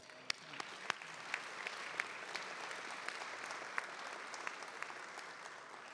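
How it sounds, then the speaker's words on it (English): An audience at an annual community march on crime event applauds steadily for about six seconds, with a dense wash of clapping and a few sharper claps near the front, at moderate distance. "to give them a round of applause"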